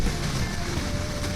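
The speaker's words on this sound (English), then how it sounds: "sometimes you get in that really strong wind like that that's really super gusty" Strong, gusty wind buffeting a rider on a 2021 Harley Davidson Low Rider S, a loud continuous rushing roar of wind noise close to the microphone.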